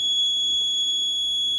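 A vehicle accident prototype's collision warning buzzer sounds as one continuous, steady high-pitched electronic tone at moderate loudness, with no pauses and no voices.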